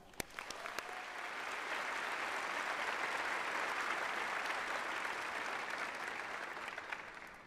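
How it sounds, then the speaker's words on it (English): A high school graduation audience applauds its teachers, many hands clapping in a broad, steady roar that swells after a few scattered first claps and holds for several seconds. "So let's give them all a round of applause."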